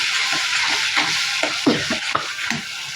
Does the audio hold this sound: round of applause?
no